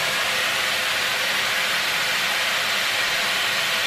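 A Dyson Airwrap hair styler running while curling hair, giving a steady, loud, close rush of blowing air with an even hiss that never changes for the whole stretch.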